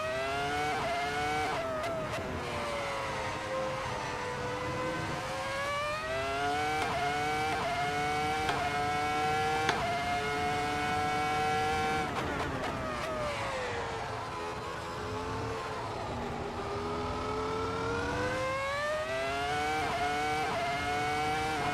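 Formula 1 car engine lapping Zandvoort in the Assetto Corsa racing game, a loud, continuous high-pitched whine that rises and falls smoothly through gear changes and corners for the whole stretch, with no talking over it.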